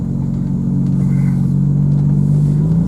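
A 1960 Jaguar Mk2 saloon, engine still cold and running a bit rough, drones steadily from inside the car while driving, a loud, even low hum with a slowly rising tone and no talk.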